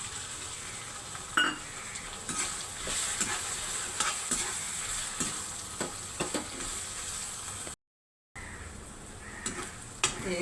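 Onion pieces frying in a pan with ginger garlic paste, a continuous sizzle broken by repeated scrapes and clinks of a spoon stirring against the pan, close and fairly loud, with a short silent gap near the end.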